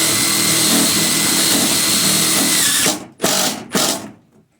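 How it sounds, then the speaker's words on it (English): A power driver runs roofing screws through a plastic barrel for a pig waterer, giving a sustained whirring drive. It ends in three short, sharp bursts as the screw seats. The sound is close and loud with no talk. "I just screw right through the barrel"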